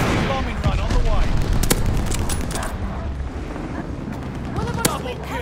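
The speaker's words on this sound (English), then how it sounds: "Friendly bombing run on the way." Friendly glide bomber bombing run in Call of Duty: Vanguard brings loud, continuous rumbling explosions and gunfire, with a few sharp cracks standing out, while game voices talk over the barrage.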